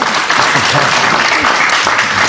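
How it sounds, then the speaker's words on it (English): Loud, close applause from an audience at a political debate in Fort Wayne, Indiana, dense and unbroken with voices mixed into the clapping. "we already have applause"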